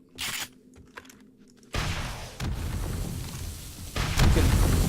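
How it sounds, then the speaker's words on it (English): A Torque shotgun fires in 7 Days to Die with the BorderlandZ mod on Alpha 17.2: a sudden heavy blast after quieter clicks, followed by booming, rumbling shots that grow louder toward the end. "Torque shotgun in the face."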